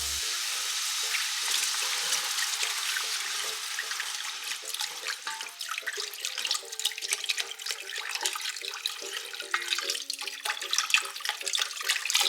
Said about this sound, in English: Slowly add the broth while stirring